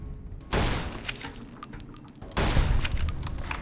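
Revolver fire in a cowgirl-themed video game, two loud broadband bursts of shots with clattering tails, separated by a quieter stretch.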